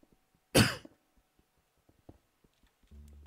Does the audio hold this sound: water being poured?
no